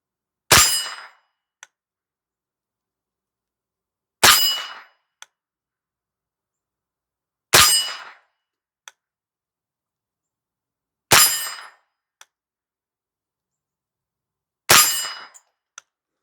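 Remington Apache 77 nylon semi-automatic rifle firing at steel targets, five sharp loud shots spaced several seconds apart, each followed about a second later by a faint distant clang of the bullet striking steel.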